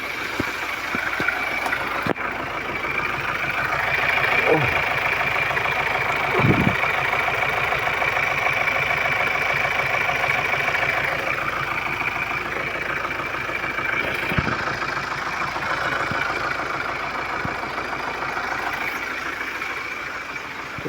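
A Ford engine idles roughly after a cold start, a steady mid-pitched running hum with occasional low thumps and faint fluctuation, heard close and alone.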